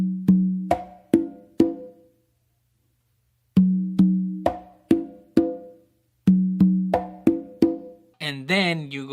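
Conga pattern of a slap and tap followed by open tones from the right and left hands, played in three short, evenly spaced bursts of sharp ringing drum hits, with a brief voice at the end.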